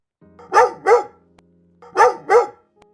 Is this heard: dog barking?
yes